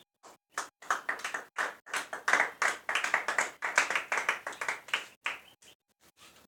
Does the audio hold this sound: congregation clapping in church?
yes